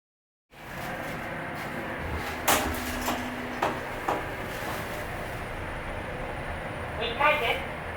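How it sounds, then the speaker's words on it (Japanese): Wheelchair-accessible passenger elevator at a children's centre in Kato: doors slide shut with soft clunks, then the car hums steadily as it moves, while a recorded voice announces over the sound. "ドアが閉まります。"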